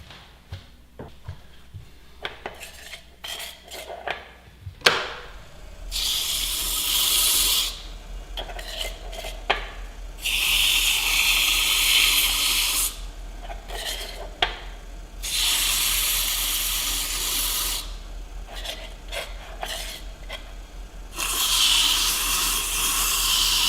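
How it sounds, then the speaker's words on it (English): Bursts of harsh, hissing abrasion from sanding the inside of a spalted beech piece on a wood lathe come and go against a low motor hum, with scattered clicks and knocks between the rasping passes. "when you're sanding the inside of something like this"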